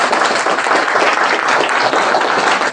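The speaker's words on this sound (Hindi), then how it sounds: "आपका प्रॉपर्टी नहीं मांगा, सिर्फ ताली मांगा।" Seminar audience clapping in a dense, loud, continuous burst of many hands at close range, with no talking over it.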